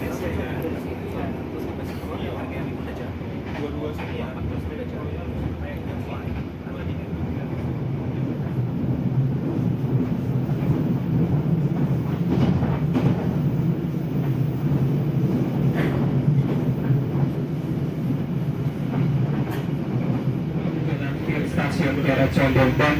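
Aboard a Pasundan economy passenger train in a new-generation carriage, a steady rolling rumble of wheels on rails builds slightly and holds throughout, with talk over it.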